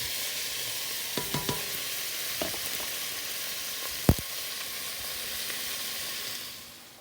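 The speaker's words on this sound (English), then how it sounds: "While the beef is sauteing with the onion" Beef and onions sautéing in a pot for Jamaican pumpkin beef soup, a steady close sizzle with a few scattered ticks and one sharp clack of a utensil, fading near the end.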